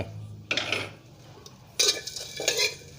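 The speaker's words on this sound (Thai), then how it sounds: "คั่วเลยครับคั่วด้วยกันเลย" Whole spices and galangal dry-roasting in a pan for homemade larb chili paste, with a couple of bursts of scraping and rattling as they are stirred, close and fairly quiet, no talking.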